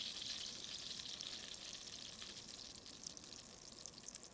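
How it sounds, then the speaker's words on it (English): Butter sizzling and bubbling in a pan as its water cooks off before browning, a steady soft crackling hiss that eases slightly toward the end, close and alone. "It's going to sound like it's boiling, and that's the water from the butter being driven off"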